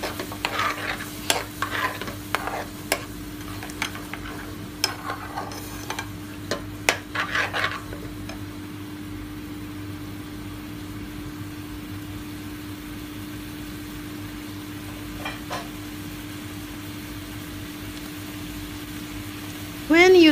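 Cream is stirred into saag in a frying pan, with a spoon scraping and clattering in bursts over a steady low sizzle and hum, then the stirring fades and the pan keeps quietly frying.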